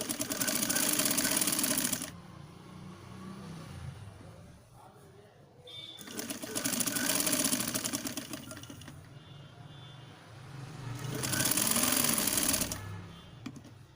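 Sewing machine stitching a piping strip onto a blouse sleeve, running in three loud, steady bursts separated by quieter pauses, with someone talking between runs.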